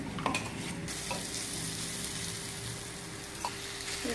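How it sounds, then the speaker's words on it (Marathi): Potato snack shallow-frying until crisp in oil in a pan, with a continuous close sizzle and a few light clinks of a utensil against the pan. "एकदम क्रिस्पी भाजते. असं पॅन केला ना, चौकडून तेल घेऊन द्यायला."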